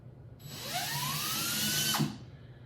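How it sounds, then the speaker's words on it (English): A 3/8 inch power drill whirs up to speed boring into a guitar body, its pitch rising as it spins, then cuts off abruptly after about two seconds. "I've got my 3/8 inch drill ready to go."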